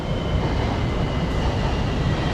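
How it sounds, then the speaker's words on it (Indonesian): An MRT metro train pulls into Sentul Timur station, producing a loud, steady rumble of wheels and carriages that continues without a break. No one speaks over it. "Oke, MRT-nya udah sampai."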